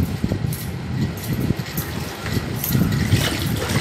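A silk top is washed and rubbed by hand in a basin of water, giving close, continuous low sloshing and swishing with small splashes that swell slightly toward the end.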